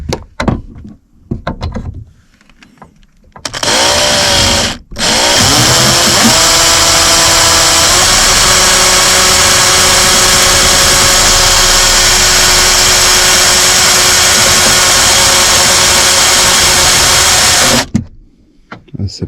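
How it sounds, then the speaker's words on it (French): A power drill bores into the metal body of a VW Transporter T5/T6 van, a loud, sustained whine running for over ten seconds after some brief handling clatter, then cutting off abruptly. "Ça perce pas bien."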